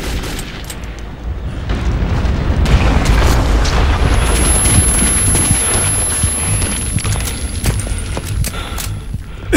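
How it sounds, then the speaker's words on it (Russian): A loud explosion in the video game Metro 2033, a heavy low boom that swells and rumbles for several seconds with crackling debris and a thin high whine, with no talk over it. "Смотри, какой прикольный взрыв."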